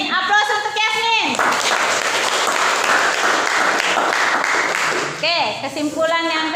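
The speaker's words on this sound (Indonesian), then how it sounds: "Aplaus untuk Yasmin" A classroom audience claps for a student presenter, a few seconds of dense, steady applause from many hands between stretches of nearby voices at the start and end.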